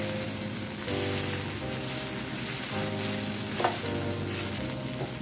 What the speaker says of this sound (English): Now we're going to add our shrimp back in.